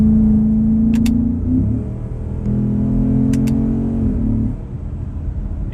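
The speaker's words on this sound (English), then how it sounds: "Oh, those blips sound nice." A Porsche engine drones at a steady pitch inside the car, and its note rises and falls twice as the revs blip on downshifts, loud and close with a low rumble beneath.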